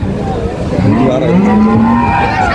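Holstein Friesian Indian border-cross dairy cows at a cattle market give a loud, drawn-out moo with a rising then level pitch, alone and close by.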